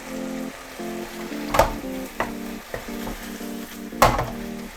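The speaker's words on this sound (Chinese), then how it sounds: "差不多了，开盖，拌炒一下。 出锅前，米酒下去，呛一下味道。" Satay beef is stir-fried in a hot pan with rice wine added: a steady close sizzle and crackle, broken by a few louder scraping clanks of the spatula tossing the meat.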